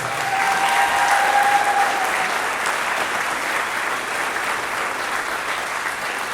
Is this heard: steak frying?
no